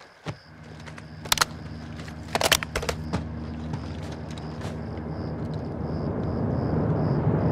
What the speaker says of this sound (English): Got a heli incoming.